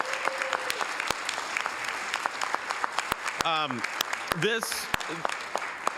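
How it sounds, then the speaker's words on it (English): Applause for award winners at a Hayward city council meeting: scattered, fairly sparse clapping from a modest room, with a few sharp individual claps and bird-like whistles or chirps rising through the middle. "let's give everybody a big round of applause"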